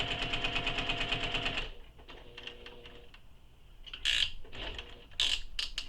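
Handmade fabric toy seam being sewn across a corner on a sewing machine: a fast, steady mechanical stitching whir for under two seconds that stops abruptly, followed by scattered small clicks and handling noises.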